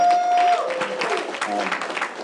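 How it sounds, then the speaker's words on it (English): Crowd applause at a training session, a dense, moderately loud patter of clapping mixed with voices and a brief steady tone at the start. "Give it a round of applause for them as well"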